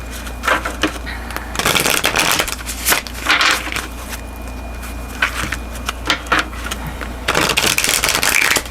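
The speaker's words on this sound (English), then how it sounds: "So let's go ahead and shuffle the tarot first." Tarot cards shuffled by hand in bursts of crisp riffling and slapping, close and fairly loud, separated by brief quieter gaps, with no talk.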